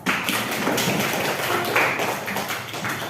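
Students in a classroom break into dense applause, a steady loud patter of many hands clapping together, continuing without pause for a few seconds.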